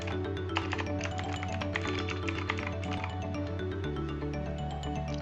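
Rapid, steady tapping of keys on a computer keyboard, close and fairly quiet, with a continuous low background hum underneath.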